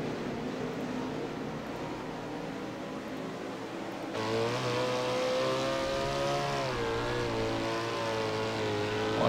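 USAC 360 sprint cars racing at Eldora in iRacing, engines droning and revving continuously at close range, growing louder and more tonal about halfway through as a car passes near.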